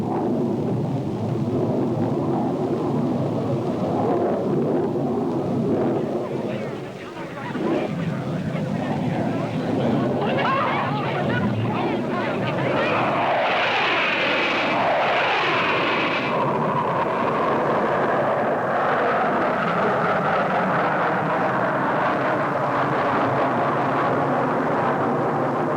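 Blue Angels jet aircraft flying formation maneuvers, a deep sustained roar that swells and sweeps past, heard under a narrator's voice that talks throughout.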